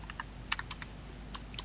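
Rapid, uneven keystrokes on a computer keyboard, close and fairly quiet, typing a short command with a few sharper clicks over a faint steady background hum.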